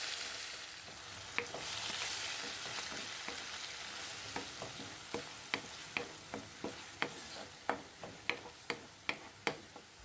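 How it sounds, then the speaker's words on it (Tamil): Onion paste sautéing in oil with curry leaves hisses in a soft, steady sizzle, joined by a run of regular, sharp spatula taps that grow louder toward the end. "இந்த ஆனியன் பேஸ்ட் வந்து நல்லா கோல்டன் ப்ரௌன் கலர் ஆகிற வரைக்கும் நல்லா வதக்கிப்போம்."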